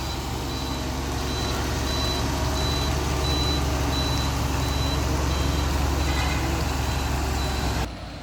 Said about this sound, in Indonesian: ini dia sang truk pindah jalur.